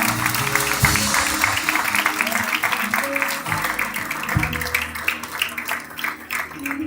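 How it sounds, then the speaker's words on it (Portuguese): Church congregation applauding during a worship service: a dense, continuous patter of many hands that runs the whole time, mixed with a sustained musical tone and voices underneath. "Você pode aplaudir o nome do Senhor."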